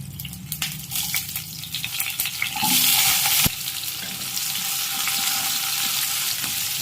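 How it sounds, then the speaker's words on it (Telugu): Chopped onions, green chilies and curry leaves dropped into hot oil with mustard seeds and cumin, with clattering stirs first, then a sudden loud burst of sizzling that settles into a steady frying hiss. "ఇందులో ఇప్పుడు కట్ చేసి పెట్టుకున్న ఉల్లిపాయలు, పచ్చిమిరపకాయలు, కరివేపాకు వేసుకుందామండి"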